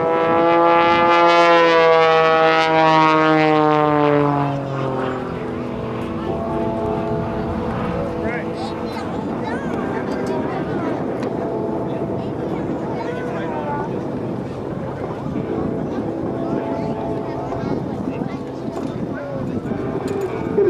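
An Extra 300L aerobatic propeller airplane drones overhead at an airshow, its pitch sliding downward as it slows into a knife-edge spin, then a steady rough engine roar with wind noise continues.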